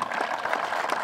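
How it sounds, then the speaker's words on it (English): Audience at a 2022 graduation ceremony clapping for the graduating class, a brief, even burst of applause in a large room, moderately loud throughout. "go ahead, clap for them."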